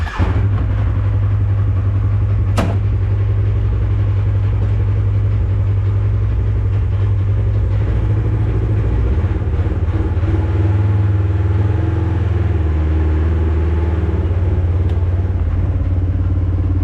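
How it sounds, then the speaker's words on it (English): Polaris RZR XP1000 side-by-side on a test ride, its engine running steadily at a low, rumbling drone close by, with a sharp click early on and slight shifts in pitch, with no talking. "I'm gonna go out here and do a little test rip in it real quick"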